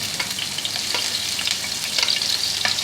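Sliced onions fry in hot desi ghee in a pan, making a steady, close sizzle with faint stirring scrapes throughout and no talk.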